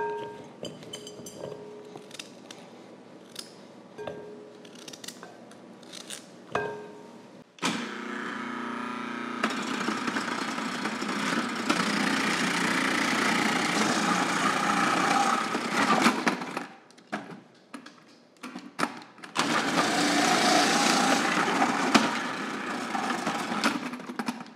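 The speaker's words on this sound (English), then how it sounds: "we'll get these shredded in the food processor" A food processor shredding carrots: quiet handling clicks first, then the motor kicks in with a loud, dense whirring grind that runs for several seconds, stops briefly, and starts again.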